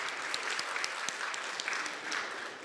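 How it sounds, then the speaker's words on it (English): An audience at an ICPC programming contest event claps steadily, a dense, even round of applause that fills the short moment. "let's give a round of applause for that answer"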